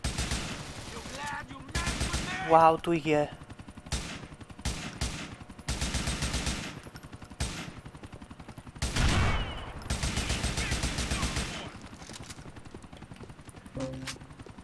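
Gunfire in GTA IV, bursts of rapid automatic shots that come in repeated loud clusters separated by short pauses, with someone talking briefly between them.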